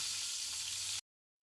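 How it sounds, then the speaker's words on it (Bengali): A second batch of eggplant slices fries in hot oil, a close, hissing sizzle that runs steadily for about a second and then cuts off abruptly to silence. "সেকেন্ড ব্যাচেরটাও ঠিক একইভাবে আমি ভেজে নিচ্ছি"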